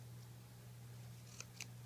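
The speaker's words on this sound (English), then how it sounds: "So I'm just going to take my scissors," Scissors snip out a paper piece for a handmade Christmas card, two or three quiet, crisp cuts near the end over a low steady hum, with no talking.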